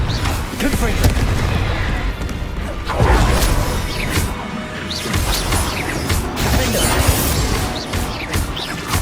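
A Confringo blasting spell cast in the Hogwarts Legacy video game, heard as a loud burst followed by booming, crashing impacts amid continuous dense combat noise, with voices talking over the action.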